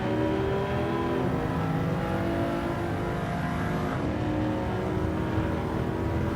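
A V8 turbo car engine in the Forza Horizon 5 racing game roars continuously as it accelerates hard, a dense, loud, sustained engine note with no talk over it.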